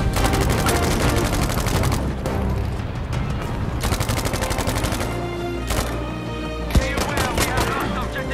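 Rapid bursts of automatic gunfire in Battlefield V, loud and dense, with dropouts between volleys and a sharp single crack near the end.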